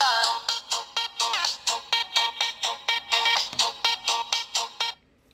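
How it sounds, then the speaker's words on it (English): An Android phone ringtone plays a bright, rapid melodic pattern of repeated electronic tones for about five seconds, then stops abruptly. "here you can change your let me see, phone ringtone"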